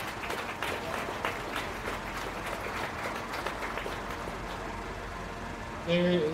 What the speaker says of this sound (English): Let's give these senior showmen a big round of applause